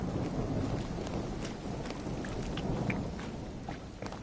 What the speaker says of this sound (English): that was raining in real life